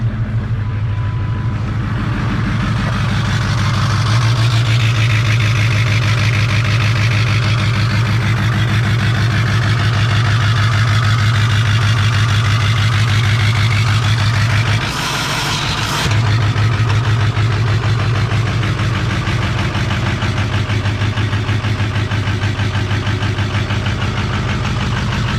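Ford Bronco with a 6.0 diesel in a dually setup idles steadily and loudly up close, a constant low rumbling clatter with one brief dip partway through.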